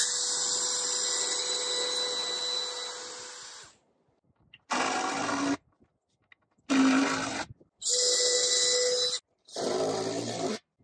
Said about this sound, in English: I still need to pre-drill it though.